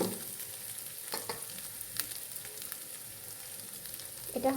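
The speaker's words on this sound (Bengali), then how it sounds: "একদম সুন্দর করে হালকা হাতে নাড়তে হবে" Noodles being gently stirred in a frying pan, a steady soft sizzle with a few light scrapes and clinks of the utensil, close by, no voices.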